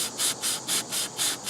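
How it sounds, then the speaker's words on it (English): A knife blade is rubbed with 1000 grit sandpaper in a steady back-and-forth rhythm, about six close, hissing strokes with brief pauses between them. "all I did is take the 1000 grit sandpaper"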